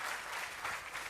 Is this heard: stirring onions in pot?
no